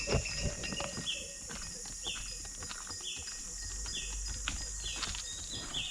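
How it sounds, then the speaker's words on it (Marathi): Birds singing in a Konkan village in the morning, with a repeated short chirping call sounding at roughly one-second intervals over a soft outdoor background with occasional knocks. "सकाळी पक्ष्यांचा आवाज बघा"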